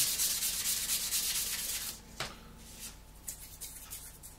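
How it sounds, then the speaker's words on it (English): Rubbing with a polishing sponge on a model surface, a steady rhythmic scrubbing hiss with quick back-and-forth strokes, close and moderately loud, easing slightly toward the end. "we've got a polishing sponge, so we'll just normal our polishing sponge on this one"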